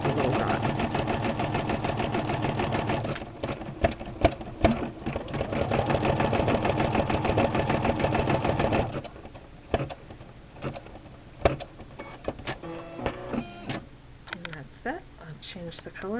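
A Brother SE-400 embroidery machine stitching steadily, with a dense, rapid mechanical chatter that runs loud for about nine seconds, then gives way to sparse clicks and short bursts.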